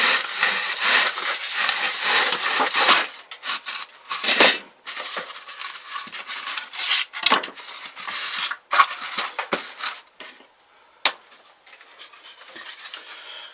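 A Japanese pull saw cuts through styrofoam in a steady series of loud, hissing rasps, dense and continuous at first, then breaking into separate strokes with short pauses between them.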